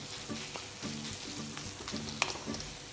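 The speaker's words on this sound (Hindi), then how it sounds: "इसे और थोड़ी देर फ्राई करेंगे जब तक टमाटर गल जाए" Mixed vegetables and tomatoes frying over a medium flame, a steady close sizzle broken by repeated scraping stirs of a spoon across the pan, with one sharp clink.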